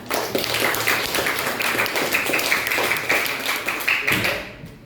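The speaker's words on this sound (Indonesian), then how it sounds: "Kita beri aplaus buat Irsan." Classroom applause for a student who recited a Quran verse, a steady burst of hand clapping from a group lasting several seconds before fading out.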